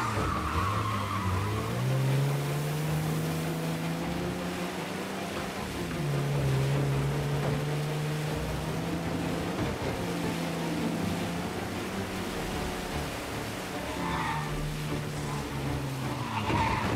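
Car chase in the video game Mafia: Definitive Edition with tires skidding and screeching over a roaring engine, sustained and loud with pitch sweeps as the car slides through turns.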